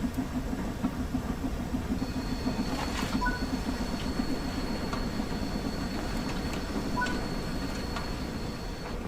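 A steam locomotive in a train-driving video game chugs steadily with a continuous rumbling run, a high whistle-like tone held in the background, and occasional brief metallic clanks; no speech.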